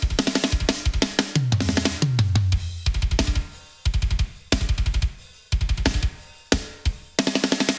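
Modern metal drum kit pushed through a VCA compressor on a send with medium-slow attack and fast release, mostly snare with some kick and toms: loud, punchy hits and fills in a driving rhythm, with no talking.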